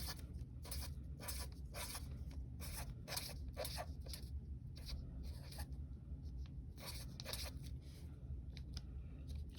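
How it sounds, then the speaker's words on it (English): A pencil writes numbers into a hundreds, tens and ones chart, giving faint, close scratchy strokes in short irregular bursts over quiet room noise. "Gonna write out my investigation number in my hundreds, tens, and ones chart."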